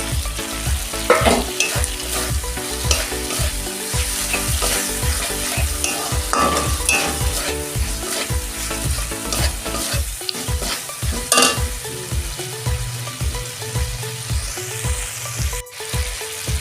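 Prawns fry in hot oil with taro stolons, a constant close sizzle punctuated by rhythmic scraping and stirring of the pan throughout.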